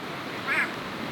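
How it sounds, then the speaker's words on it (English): A white-bellied go-away bird, a turaco, gives one short nasal call on an afternoon safari at El Karama Ranch, heard moderately near over a quiet outdoor background. "You can hear the white-bellied go-away bird singing."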